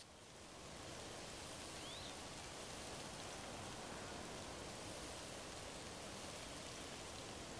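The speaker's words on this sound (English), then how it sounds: "It's always raining when I don't want it to." Rain falls in Tears of the Kingdom, a dense, even hiss of steady downpour that fades in at the start and then holds constant without any talk.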